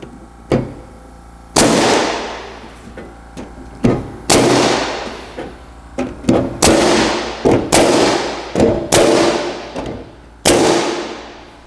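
A metal roofing nail gun fires about a dozen sharp, loud cracks at uneven intervals, each followed by a short ringing decay and a faint pneumatic hiss, with no talk between shots.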